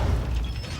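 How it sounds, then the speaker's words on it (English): Magazine swap in the tactical shooter game Rainbow Six Siege: a short run of close mechanical clicks and clacks over a low rumble, lasting under a second with no voices. "Swapping mags."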